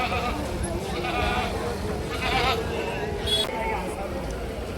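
Goats bleat at Deonar goat market in Mumbai amid a busy crowd, several wavering calls rising over constant voices and chatter nearby.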